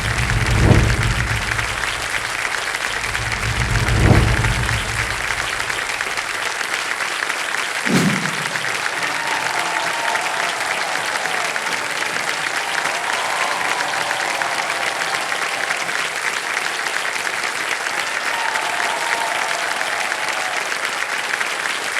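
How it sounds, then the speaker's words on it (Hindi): A studio audience on a quiz show breaks into loud, sustained applause that fills the hall, welcoming the Indian women's ice hockey team onto the stage. "तालियों के साथ अभिनंदन किया जाए women's ice hockey team India."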